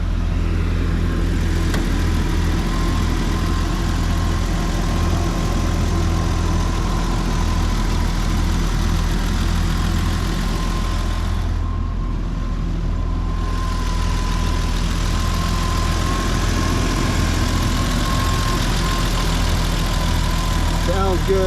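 A 1991 BMW 325i E30 convertible idles steadily with a low, even engine drone that holds throughout, with no voices over it.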